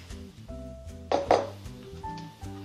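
Drained eggplant pieces go into a non-stick wok or frying pan, producing a few light clinks and soft knocks against the pan. The handling noises are close and brief, with music playing quietly in the background.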